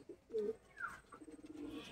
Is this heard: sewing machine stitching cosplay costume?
no